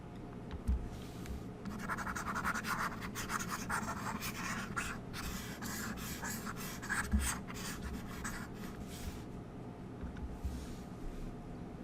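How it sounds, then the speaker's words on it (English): Steady scratchy rubbing of an eraser across a board during a math lesson, running continuously with short strokes and slight bursts, fairly faint and without talk. "let me erase this."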